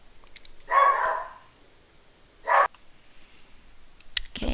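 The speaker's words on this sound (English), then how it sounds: "decided to bark at someone." Dog barking indoors in two loud, separate woofs a couple of seconds apart, followed by faint rustling and a closing thump, with no talk.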